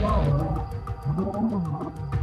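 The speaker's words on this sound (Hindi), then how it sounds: "हमें धूल के बादल दिख रहे थे और उनकी दहाड़ें और गुर्राहट सुनाई दे रही थी।" Lions of the Mapogo pride in the wild roar and growl in a deep, rumbling series of calls that rise and fall, loud and fairly close.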